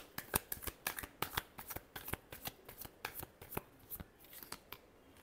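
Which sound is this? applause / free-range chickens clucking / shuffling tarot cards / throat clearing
shuffling tarot cards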